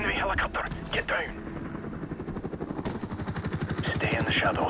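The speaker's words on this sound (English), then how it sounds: "Enemy helicopter, get down." Enemy helicopter rotor thumping with bursts of gunfire in Call of Duty: Modern Warfare Remastered, sharp shots early giving way to a rapid, loud rotor beat that grows nearer, with voices speaking over the action.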